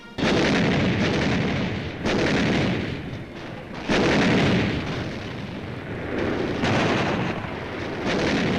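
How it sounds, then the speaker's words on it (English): Artillery fire during a night-time artillery duel in the Battle of Iwo Jima, with heavy, booming blasts recurring every couple of seconds over a dense, rumbling roar. "An artillery duel develops at night."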